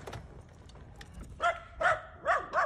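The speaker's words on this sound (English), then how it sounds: "Dog's running loose." A loose dog barks on rural property, four sharp barks coming in quick succession over the second half, fairly close, after a quieter stretch of faint background noise.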